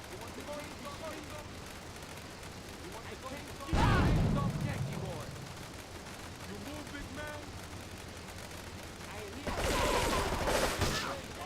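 Two loud, booming grenade explosions go off several seconds apart during gameplay of Grand Theft Auto III, with someone talking steadily underneath.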